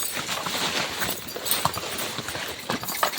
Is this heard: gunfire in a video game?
no